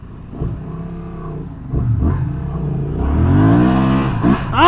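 A Honda Transalp 750 motorcycle engine revs up hard at full throttle on a first ride in deep sand, its note climbing steadily and growing louder toward the end, loud and close with no talk over it.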